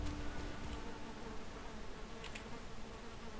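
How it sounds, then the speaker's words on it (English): Bees in the Valheim video game hum in a steady, soft, continuous buzz, faint and even with no other sounds. "The bees are happy."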